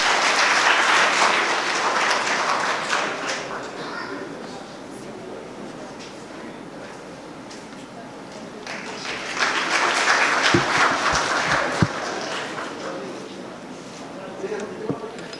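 An audience applauds the vice-chancellor at a university networking festival event, clapping in two swells, the first fading after a few seconds and a louder burst returning later, with an announcer's voice over the crowd.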